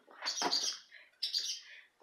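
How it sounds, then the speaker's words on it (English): Birds chirp nearby in two quick bursts of bright, high tweeting calls, loud and close, with no voices or other sounds. "Man, these birds are annoying."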